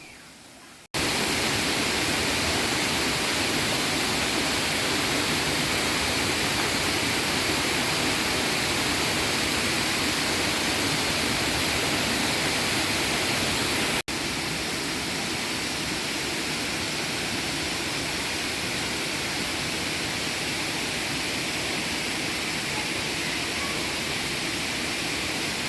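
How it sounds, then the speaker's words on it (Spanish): A waterfall partway along the route to Ciudad Vieja, Suchitoto, El Salvador, roars as a steady, dense broadband rush of falling water close by, continuous throughout with no voices. "le dejo las imágenes de esta cascada que está a medio camino de llegar a Ciudad Vieja"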